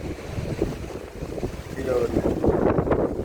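Strong typhoon wind roars at a surf camp ahead of a super typhoon, a steady rushing gust buffeting the microphone with surf and water noise beneath, as a voice briefly speaks.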